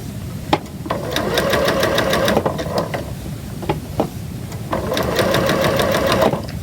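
Sewing machine stitching quilt pieces, a rapid mechanical whir in two long bursts separated by brief pauses, close and fairly quiet, with faint clicks between runs.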